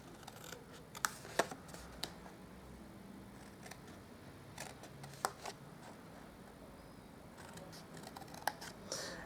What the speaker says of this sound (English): And then we'll just cut up the score lines.